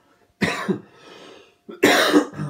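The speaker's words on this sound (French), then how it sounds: "comme moi je tousse" Two harsh coughs about a second apart, the second louder and rougher, with a faint breathy pause between them.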